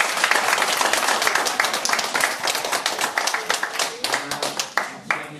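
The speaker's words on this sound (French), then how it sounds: "On peut encore les applaudir." A school audience at a collège in Caudry applauds steadily, many hands clapping in a dense, lively burst that stays loud before thinning slightly toward the end.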